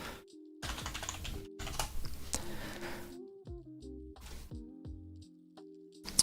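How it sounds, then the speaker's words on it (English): Quick bursts of typing on a computer keyboard, close and quiet, with clusters of key clicks separated by short pauses while a low musical drone plays beneath; no talking. "Sorry, I was typing and talking at the same time."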